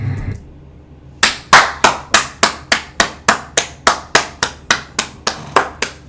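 About sixteen sharp hand claps in a steady, fairly quick rhythm after a brief quiet start, close and loud, with each clap decaying before the next and no talking.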